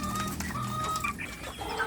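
Kampung chickens and their chicks cluck inside a coop, with several short overlapping calls and a few higher chick peeps at moderate loudness.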